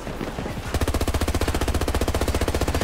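P90 submachine gun firing in Battlefield 2042, a long, rapid full-auto burst of evenly spaced, punchy shots, loud and close after a brief lead-in of ambient game noise.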